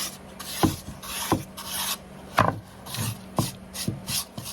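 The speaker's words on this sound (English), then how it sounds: "I'm going to make sure I get my wax on everywhere." A cloth or pad rubs wax over a wooden farmhouse-style Christmas decoration in repeated short, scratchy strokes, close and fairly loud with brief pauses between passes.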